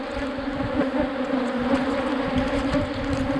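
A loud, sustained buzz of many honeybees fills the air, a thick, even drone with bees flitting near and away, no talking.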